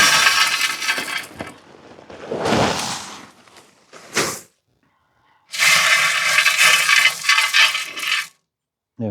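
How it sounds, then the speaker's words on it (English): Gravel is poured into a plant pot to make a drainage layer, giving gritty rushing and rattling pours in several separate bursts with short silent gaps between, close and fairly loud. "That's your gravel in, 2 to 3 inches deep."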